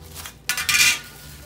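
A metal pizza pan is handled in a home kitchen, giving a brief clatter and scrape at close range, with a louder burst midway before it settles.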